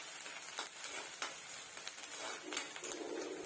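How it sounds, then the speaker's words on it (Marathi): Chopped onion frying in hot ghee, a steady close sizzle with soft crackles and a brief louder burst near the end, no talking. "त्यात मी एक बारीक कापलेला कांदा घालते. कांदा आपण गोल्डन होईपर्यंत परतून घ्यायचा आहे."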